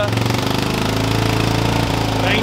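A small engine in a 4x4 Willys mini jeep is held at a raised, steady rev with the accelerator pressed. It sounds as a loud, close, rapid pulsing throb that stays even for the whole stretch.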